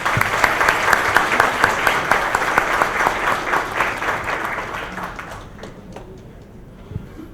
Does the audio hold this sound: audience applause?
yes